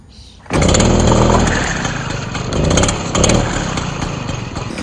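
A Stihl FS 56 RC weed eater engine starts from cold, catching abruptly after a quiet moment and then running loud and close with a high, buzzing two-stroke drone that swells and dips slightly.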